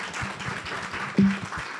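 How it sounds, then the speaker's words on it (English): Round of applause from the audience for the speakers at an AI regulation and ethics panel, dense steady clapping from a mid-sized crowd with one sharper clap near the end. "So maybe a round of applause for our speakers."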